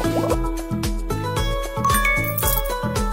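Water drips and plops in quick bursts during a shampoo in a kids' animal hair salon game, over a bouncy electronic music track, with bright tinkling game-style sparkles layered on top.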